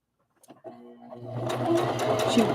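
A sewing machine stitches a narrow eighth-inch seam on a rag doll, starting after a few quiet handling clicks and then running in a steady, close, continuous whir that builds to a constant loud hum.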